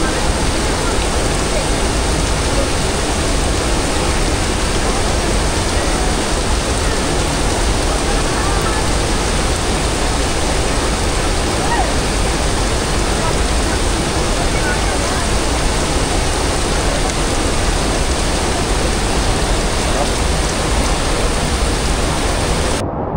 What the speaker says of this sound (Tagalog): Umuulan lang. Umuulan.